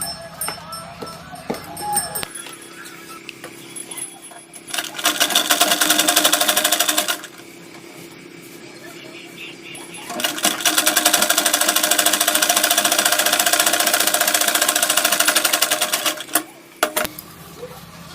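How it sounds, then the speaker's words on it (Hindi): A sewing machine stitches a fabric strip with red thread, running in two long steady bursts of rapid whirring with quieter pauses between them. "रेड वाला पट्टी के अंदर इसको सिलाई लगाएंगे"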